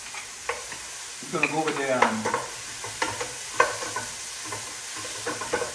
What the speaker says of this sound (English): So now, my sausage goes in this pot.